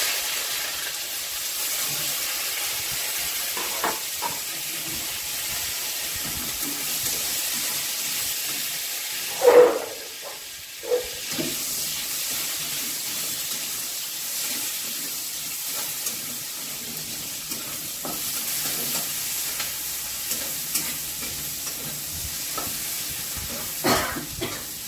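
Onion fries in a pan for a pumpkin-greens and shrimp dish, a steady soft hiss and sizzle with occasional stirring clinks and one louder scrape, close by and without talk.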